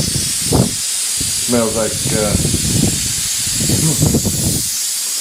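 A steady, loud hiss of pressure bleeding out of a line during apartment maintenance runs throughout while someone talks over it.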